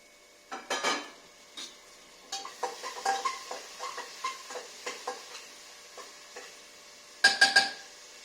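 Tomatoes tossed into browning onions for a khichdi tadka: a series of clinking spoon-on-pan stirs over soft sizzling, close and fairly quiet, ending in a brisk cluster of scrapes, with no one talking.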